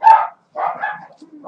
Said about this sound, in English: these dogs are just going to keep barking for about 10 minutes